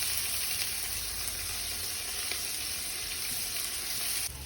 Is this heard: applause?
no